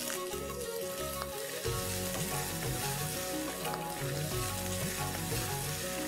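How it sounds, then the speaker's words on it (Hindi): Green chilli and chopped onion sizzle in a hot dal tempering with a loud, continuous frying crackle, along with some low clattering and rhythmic background sounds, and no voices. "अब इसमें हम डालेंगे तड़के में हरी मिर्ची और अब इसमें जाएगा 1 कटा हुआ प्याज।"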